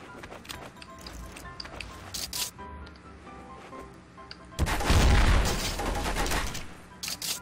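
Gunfire bursts from a 12-gauge shotgun in the game Counter-Strike: Source, with a loud sustained volley near the middle and scattered quieter shots and game sounds around it.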